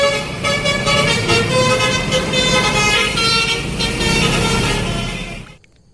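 Toy double-decker bus horn blaring a sustained, loud, close tooting melody for several seconds before cutting off abruptly.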